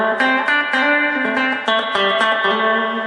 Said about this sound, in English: Some guys play with a lot of reverb.